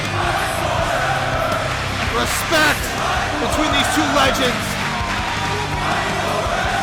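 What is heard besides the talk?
wrestling arena crowd cheering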